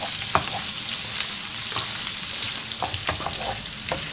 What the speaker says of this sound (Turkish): Birkaç dakika soğan ve sarımsaklarımızı kavuruyoruz.